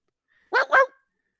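A man imitates a dog with two quick, close barks in a row, voiced and clear against silence.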